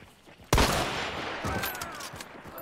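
Gunfire in the video game Hunt: Showdown: one sharp, loud shot bursts out and rings with a long echo, followed by a few fainter, distant reports trailing behind it.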